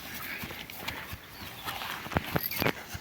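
Hooves of a mare clop irregularly on hard ground nearby, with a few sharper stamps and scuffs toward the end amid light background noise.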